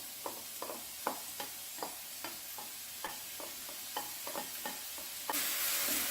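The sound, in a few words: garlic and mushrooms sautéing in pan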